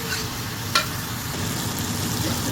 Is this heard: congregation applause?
no